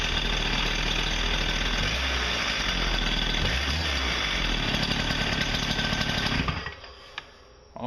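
A rebuilt Stihl TS420 cut-off saw engine runs loud and close, holding a steady, buzzing high-rev roar before suddenly dropping back toward a low idle near the end.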